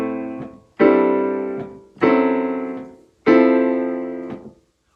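Guitar plays four strummed chords one after another, each ringing and fading before the next, tracing a slow descending minor line.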